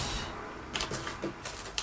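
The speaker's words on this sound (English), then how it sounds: "A circle punch, because I really like the colour." A circle punch cuts circles from paper, producing a few quick, faint, crisp clicks spaced under a second apart against a soft background hiss.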